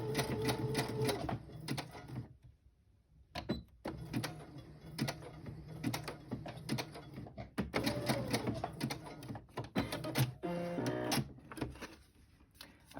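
A sewing machine runs in bursts as it stitches through a paper journal page, its fast mechanical whirring rising and falling with short pauses between runs, fairly close and with no talk.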